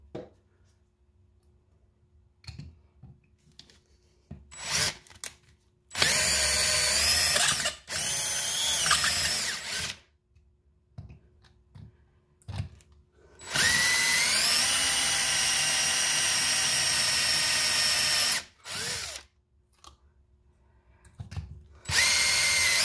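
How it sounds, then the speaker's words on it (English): Power drill cutting rivet heads on a hybrid battery sub-pack from a 2006–2016 Toyota Highlander or 2010–2016 Lexus RX450h, whining loudly in two long runs and several short bursts, with quiet pauses between them. "go ahead and remove the other, or cut the heads of the other rivets"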